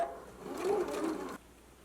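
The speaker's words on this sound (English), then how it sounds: "I'm going to start my first row of basting stitches 1/2 inch from the raw edge down" A sewing machine running basting stitches along a sleeve edge for gathering, one short burst of steady mechanical whirring that stops abruptly, close and alone without talk.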